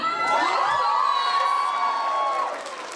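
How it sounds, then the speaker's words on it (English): A loud crowd cheering and whooping with high-pitched shouts, sustained throughout and easing off slightly near the end. "the final applause has to be from my Sai Bisa family"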